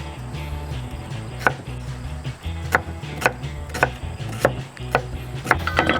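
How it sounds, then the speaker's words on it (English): A knife chops an onion into very small pieces on a cutting board, a run of sharp, regular close-up knocks spaced about a second apart over a low steady background hum. "Now we'll go with our onion. And we want small pieces here, so very small pieces of onion."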